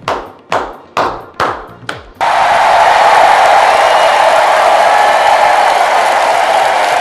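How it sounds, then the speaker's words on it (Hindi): Audience applause at a Hindi political speech: a few loud separate claps open, then a sustained, dense wash of crowd clapping fills the rest, steady and close with no voices over it. "तालियां।"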